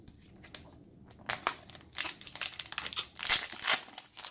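A foil booster pack of Opus IV trading cards crinkles and tears open up close, giving repeated bursts of sharp crackling and rustling with no one talking.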